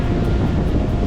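Strong wind of 25 to 30 knots blowing across a black sand beach in northern Lombok, a loud, continuous low roar buffeting the microphone with no breaks.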